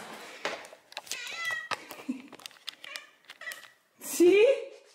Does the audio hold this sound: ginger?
no